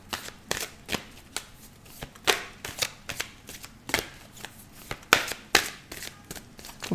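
Angel and archangel oracle cards are shuffled by hand in a steady run of crisp riffling bursts, close and fairly loud with short pauses between, and no talking.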